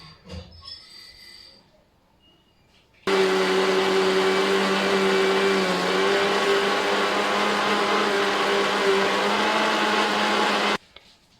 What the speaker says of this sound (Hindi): इसको मैं थोड़ा थोड़ा करके मिक्सी जार में निकाल लूँगी और यहाँ पर इसका फाइन एकदम पेस्ट बनाकर हम तैयार कर लेंगे।